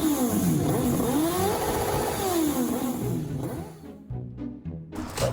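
Suzuki GSX-R1000 K1 motorcycle exhaust revving hard up and down, a loud rising and falling engine tone for several seconds before easing off, followed by a few short blips near the end.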